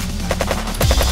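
Rapid bursts of video-game gunfire from a PUBG-style battle-royale mode in Minecraft ring out in quick succession, loud and close, followed by a heavier blast near the end.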